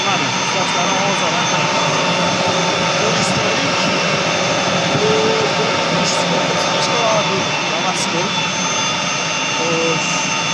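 A new factory-built Soviet electric motor drives a 37 kW water pump rated at 1500 cubic metres. It gives a steady, loud, continuous mechanical drone with a high whine and does not change for the whole stretch.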